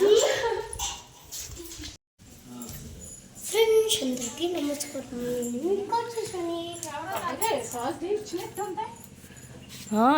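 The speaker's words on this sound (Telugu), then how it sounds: "ఈ పప్పీస్ని మా తాతయ్య వాళ్ళు పెంచుకొని" Puppies raised at a grandparents' village home whimper and yip in high, wavering cries amid children chattering and playing nearby, the yelps clustering in the middle and later part.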